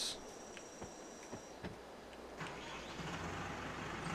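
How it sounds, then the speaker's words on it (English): A small chipped-power tractor engine in Farming Simulator 22 idles and revs with a steady mid-pitched drone, a few clicks and knocks, and a slight rise in loudness near the end, fairly quiet. "is a pretty nice little tractor. I like it."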